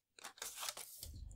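Paper is cut for a card craft, a few quick crisp snips and rustles close by in a quiet room, with a low thump near the end.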